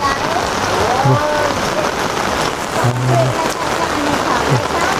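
Steady rain falls on a surface outdoors, a dense, constant hiss of drops at an even, fairly loud level, with a faint voice briefly underneath.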